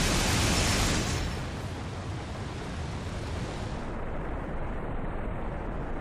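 Aircraft guns firing at an evasive bandit in a flight simulator game, with Luftwaffe REVI sight: a dense roaring burst that eases into steady engine-like rumble.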